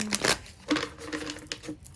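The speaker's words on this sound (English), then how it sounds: "Just going to shuffle one more time so we can get a good reading" Close, crisp riffling and tapping of cards being shuffled in short bursts, quiet and without voices.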